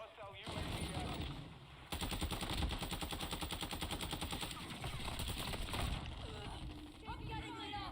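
Rapid automatic gunfire rattles almost nonstop in Modern Warfare 2 as the player takes hits, dense bursts of shots with a voice talking over the action.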